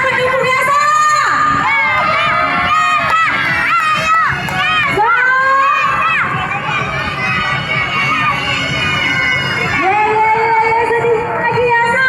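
Children's roller skating race in Banda Aceh, with a crowd of supporters and kids shouting and cheering loudly and continuously, high excited voices rising and falling throughout.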